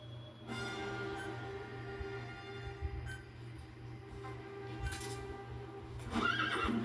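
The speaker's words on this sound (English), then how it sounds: "Get my D horse up in here." D-Horse from Metal Gear Solid V gives a close whinny near the end over a steady game background hum, with faint hoof clip-clop and small ticking sounds throughout.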